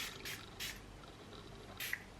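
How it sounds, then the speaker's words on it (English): Makeup setting spray misted in several short bursts, soft hissy puffs at uneven intervals close to the microphone, with faint quiet background between sprays. "Favorite setting spray."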